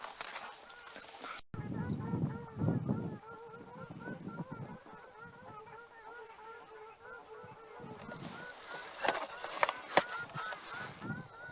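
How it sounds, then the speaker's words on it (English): Ducks near an otter's lair by the water burst into excited honking and quacking, with repeated rhythmic calls through the middle and louder, scattered squawks and splashy bursts at the start and end, fairly close. "Those ducks are going crazy."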